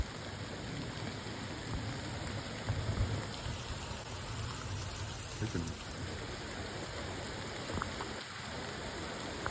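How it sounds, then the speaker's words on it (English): Steady light rain falls continuously, a soft even hiss of drops on surfaces with a few slightly louder patters, no voices. "it's just a continuous light rain"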